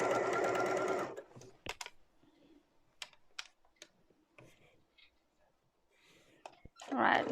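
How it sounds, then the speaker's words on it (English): Sewing machine stitching straight down through scrunchie fabric with a tie, a loud continuous whir for the first second, then scattered clicks, taps and soft handling noises before the motor briefly starts up again at the end. "So you sew straight down."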